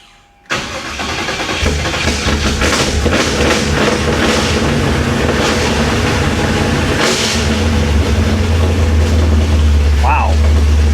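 A 1966 Chevrolet Impala's engine catches and runs loud and close, with the gas pedal worked so the revs rise and fall over a steady rumble.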